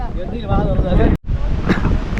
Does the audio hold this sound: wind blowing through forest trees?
yes